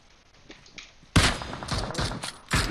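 Gunfire in PUBG Mobile: faint distant shots at first, then a sudden loud close burst followed by several sharp repeated cracks in quick succession.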